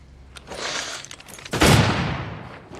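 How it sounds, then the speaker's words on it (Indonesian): Rifle gunshots in a wilderness survival scene, several distant-sounding cracks and a heavier close report with rumbling echo, rising out of quiet ambience in short irregular bursts. "Glass yang mendengar suara senapan dari arah kapten"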